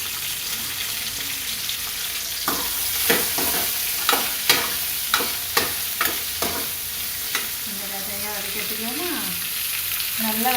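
Okra sautéing in a pan gives a steady sizzle with a run of regular spatula scrapes and taps, heard close and moderately loud, with a faint voice-like murmur near the end.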